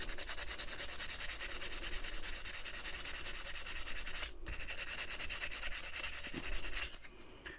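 Sandpaper rubbed along the edges of a lock pick wire by hand, giving a close, steady, fast back-and-forth scratching that stops briefly once and fades at the end.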